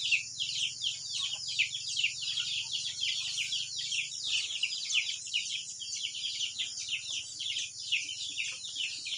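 Backyard chickens cluck and chirp steadily in a busy chorus, fairly close, with a low hum underneath.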